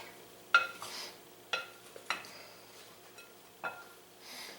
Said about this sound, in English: so I use a spoon, just kind of work this around